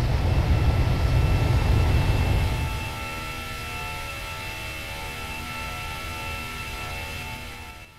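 An Airbus airliner's engines in a flight simulator, heard from an outside view, give a loud deep roar that drops in level partway through and settles into a steady droning hum with whining tones.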